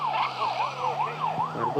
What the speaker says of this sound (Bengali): ওই পুরো পুলিশ লেগে আছে আমার পিছনে। ওই পুলিশ এসে গেছে।